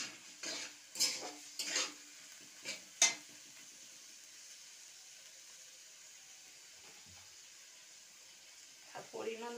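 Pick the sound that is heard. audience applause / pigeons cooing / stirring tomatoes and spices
stirring tomatoes and spices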